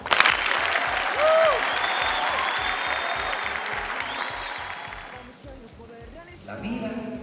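Graduation ceremony crowd applauding for parents, a dense, loud wash of clapping that fades after about five seconds, with a voice speaking as it dies away.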